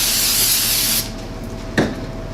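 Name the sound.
spraying brake cleaner on metal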